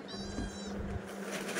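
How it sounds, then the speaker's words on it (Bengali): A cat gives a clear, close meow that rises and wavers, standing alone over quiet domestic background noise. "পাপি এই বাবা বিড়ালের সাথে কিরকম করলো।"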